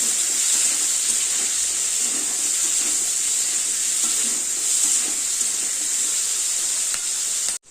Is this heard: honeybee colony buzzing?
no